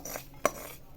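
Roasted mukhvas, a mouth freshener mix, is tipped from a pan onto a plate, giving a single sharp metallic clink amid faint rustling, quiet and brief with no talking.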